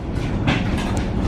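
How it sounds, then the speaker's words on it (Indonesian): A Tegal Bahari economy train departs Jatinegara station on track 7, a steady loud rumble of rolling cars with faint clickety-clack, heard for a brief moment. "Tegal Bahari diberangkatkan dari stasiun JNG Jatinegara dari jalur nomor 7"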